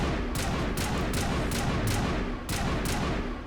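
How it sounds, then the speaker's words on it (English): In Mass Effect Legendary Edition, a firefight at Peak 15 produces several distinct gunshot cracks spaced across a dense, constant background of combat noise. "sounds like there's more people we're shooting at"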